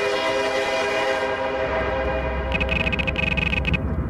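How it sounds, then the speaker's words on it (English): A train moving past in a video game, a loud, close rumble of rolling railcars under a sustained horn-like tone, followed by a run of rapid rhythmic clacking near the end. "You notice that train moving by?"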